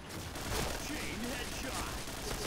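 A rapid, faint burst of MP7 submachine gun fire from the Point Blank shooter game, crackling steadily through dense background noise.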